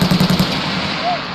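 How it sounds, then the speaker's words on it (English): Machine guns fire short controlled bursts on a Marine Corps infantry range, a quick run of rapid rounds at the start that then drops to faint background noise. "As you can see, they're machine guns,"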